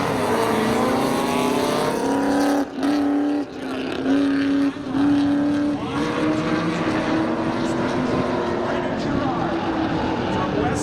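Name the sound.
drag racing cars at Seekonk Speedway, 1996 Chevy Camaro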